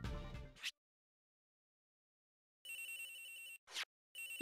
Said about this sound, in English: Agent Hicks' phone! It's ringing from somewhere